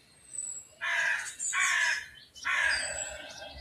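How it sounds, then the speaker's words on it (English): Blue tits giving harsh, raspy scolding calls, three bursts in quick succession close by, with a faint high call and light background hum between them. "It's the blue tits."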